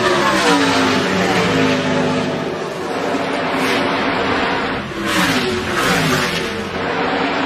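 NASCAR race cars roaring around the track on the final lap, Chase Elliott leading Kyle Busch at Charlotte, a continuous loud engine drone with rising and falling passes and crowd-like wash throughout.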